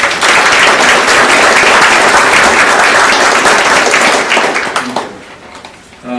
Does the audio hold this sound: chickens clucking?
no